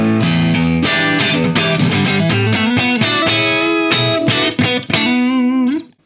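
A Henry's ST-1 electric guitar on its humbucker pickup plays a loud, distorted rock lead line of quick picked notes and sustained bends, and the final note rings out and fades.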